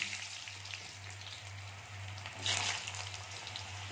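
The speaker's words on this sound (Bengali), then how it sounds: "তেলটা গরম হয়ে গেছে, এখন আমরা আলুগুলো ভেজে নেব।" Potatoes frying in hot mustard oil, a faint steady crackle with a soft rain-like patter and a low constant hum, one brief louder sputter midway.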